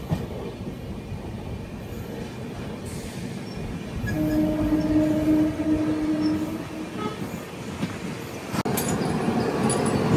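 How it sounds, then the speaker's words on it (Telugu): A train passes on an adjacent track at a railway stop, a steady loud rumble and rattle of wagons that swells midway, with a faint tonal hum and a sharp click near the end. "ఏదో ట్రైన్ క్రాసింగ్."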